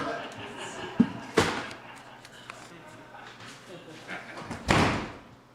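Door opening as a sound effect in a live radio play, with sharp thumps and sliding, slamming bursts heard near and loud amid quieter room noise and spoken voices.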